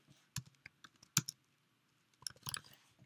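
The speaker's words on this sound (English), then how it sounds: "I'm just going to type this out, and then I'll explain to you guys." Python code is typed on a computer keyboard in sparse, irregular clusters of close key clicks, with a quiet pause in the middle before a quicker flurry of keystrokes.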